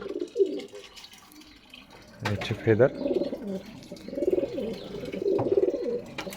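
Domestic pigeons, a pair of home-bred birds, coo in a steady low rolling rhythm close by, with someone talking over and between the calls.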